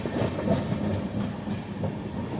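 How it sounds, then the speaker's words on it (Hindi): The Kamayani Express arriving at Nashik Road railway station, a steady rolling rumble with soft clickety-clack of wheels over the rails, heard from nearby and without talking. "फाइनली हमारी ट्रेन का अराइवल हो रहा है नासिक रोड रेलवे स्टेशन के अंदर"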